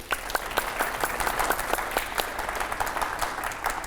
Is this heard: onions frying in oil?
no